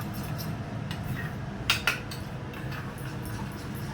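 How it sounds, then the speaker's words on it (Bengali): A spoon beats plain yogurt in a bowl in a home kitchen, giving a couple of quick, sharp metallic clinks against a quiet background. "একটা বাটিতে এবার আলাদা করে একটু দই ফেটিয়ে নেবে"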